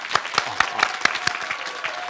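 A small group in a talk-show studio clapping, around eight crisp, evenly spaced claps over two seconds, close and clear with no other sound.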